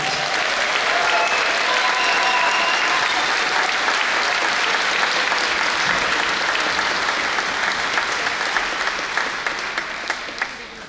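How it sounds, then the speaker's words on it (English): A concert audience gives sustained, dense applause for a high school symphonic band at a fall concert, filling the room loudly before gradually thinning and fading toward the end. "Please give another round of applause to the Irving Symphonic Band as well."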